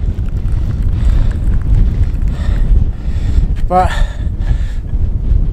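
Strong cold wind buffets a microphone outdoors on a mountainside, a constant low roaring rumble with gusty fluctuations, and a brief voice cuts in near the middle.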